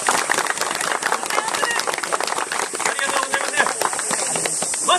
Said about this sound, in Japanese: 小さな拍手ありがとうございます。